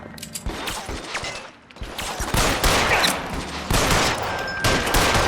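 Dense gunfire fills a shootout in the video game L.A. Noire, with rapid overlapping shots and bursts rolling on loud and nearly continuous, broken only by a brief lull.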